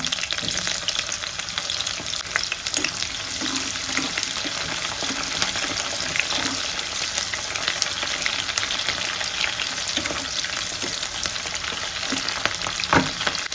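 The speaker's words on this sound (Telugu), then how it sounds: "ఆనియన్స్ వేసుకుంటున్నాం ఆనియన్స్ కూడా బాగా వేగల్లా" Onions frying in a pan for a coconut and bottle gourd stir-fry, a steady loud sizzle with crackling and occasional stirring scrapes throughout, no voices.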